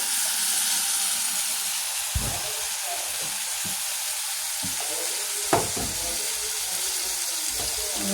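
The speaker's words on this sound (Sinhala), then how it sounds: "මේ විදිහට ඔක්කොම මෂ්රූම් ටික එකතු කරගන්නවා අර තෙල් එකට." Mushrooms fry in hot oil for a pork stew, a steady, dense sizzle running throughout with a few soft knocks of a utensil against the pan.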